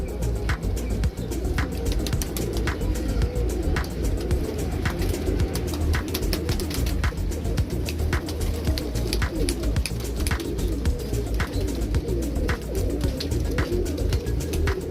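Faisalabadi Neel Dumba pigeons coo steadily and close, with repeated soft throaty calls over a constant rumble of distant traffic and chirps from other birds.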